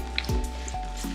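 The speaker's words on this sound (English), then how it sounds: "I'm done with chopping the ingredients, so I'm going to again get in and mix everything in." Bare hands squish and mix seasoned oxtail and curry goat meat in a bowl, giving a few close, wet, sticky squelches over a steady low kitchen hum.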